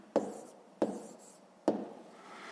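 A pen writes numbers on paper in three short, crisp scratching strokes spaced about a second apart, close and quiet against a silent background.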